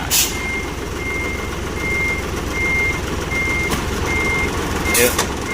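An Isuzu 360 truck emits a steady series of evenly spaced reversing beeps after being shifted into gear, heard over a constant low engine rumble with a brief clank near the end.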